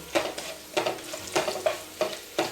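Spices with turmeric powder fry for rasam over a low flame, a soft steady sizzle broken by about six regular scraping stirs of a spoon in the pan, close and alone.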